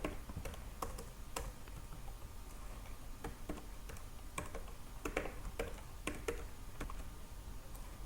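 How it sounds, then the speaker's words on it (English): Computer keyboard being typed on while writing an SQL subquery for a database exercise, with irregular clicky keystrokes in quick bursts and pauses, fairly quiet against steady room noise. "and after that I need to type where subject ID"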